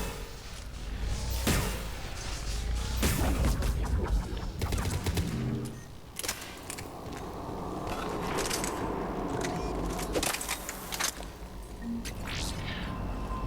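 Shotgun fire in the shooter game Mass Effect 3: sharp, loud blasts ring out in irregular bursts, mixed with rapid gunfire, whooshes and battle noise throughout.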